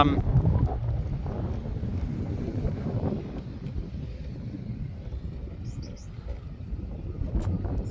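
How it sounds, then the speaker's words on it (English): Wind blowing across the summit of Mount Kosciuszko, the highest peak in Australia, buffeting the microphone in low rumbling gusts that swell and ease, with faint bird chirps and a voice speaking over it. "It gets a bit windy up here"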